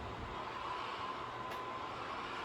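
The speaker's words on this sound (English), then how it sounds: "I'm gonna back the locomotive up one more time" A model railroad locomotive backs up along its track with a steady, faint mechanical rumble and hum that holds evenly from start to finish, with no talking.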